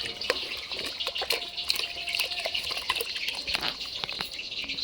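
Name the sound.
washing under running tap water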